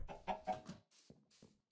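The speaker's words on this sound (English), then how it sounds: "I don't know how this chicken got out." A Minecraft chicken clucks in a short burst of several quick clucks, followed by two fainter single clucks, close and fairly quiet with no talking.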